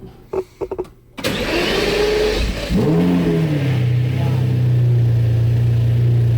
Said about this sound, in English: Mind if I give her a dance? And start it up?